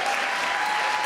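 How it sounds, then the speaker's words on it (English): Audience applause at a 2015 reproductive-justice gala, a dense, steady wash of many hands clapping together, close and full for the whole short stretch with no break. "deserves a round of applause"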